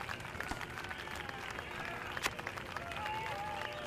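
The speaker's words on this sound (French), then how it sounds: "Je ne t'entends pas avec tout le bruit de cette foule admirative." Admiring crowd in The Simpsons game for PlayStation Portable cheering and clapping continuously at moderate volume, a busy wash of many hands and voices that stays even throughout.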